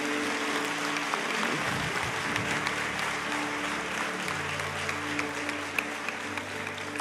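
Congregation applauding the Lord during a Portuguese-language church service, a dense, steady wash of clapping lasting several seconds with faint tonal music or organ underneath and no talk.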